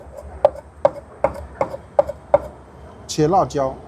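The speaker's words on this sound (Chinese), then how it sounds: "我需要把这个辣椒切碎，切辣椒" A knife chops chili pepper on a cutting board, six sharp evenly spaced knocks close to the listener, followed by a short burst of speech.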